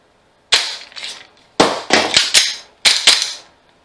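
A Coolfire dry-fire trainer on a handgun gives several sharp, loud pops in quick succession, in short bursts separated by brief silences.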